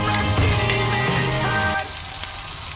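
Butter sizzling and crackling in a frying pan during a catch-and-cook meal, a steady close hiss that quiets partway through.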